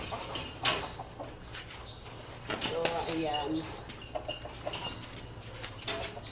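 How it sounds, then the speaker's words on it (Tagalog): Hungry chickens cluck in short bursts scattered throughout, near and moderately loud, with wing flaps and someone briefly speaking over them. "gutom na talaga yung manok ni Karuka TV"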